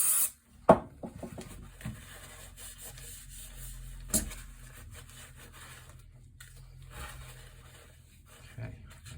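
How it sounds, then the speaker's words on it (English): A rag wipes excess grease off the outside of a Brand X Ascend bicycle dropper post, making quiet, soft rubbing strokes broken by a couple of sharp little knocks. "Just going to get the excess grease off the outside of the post as well."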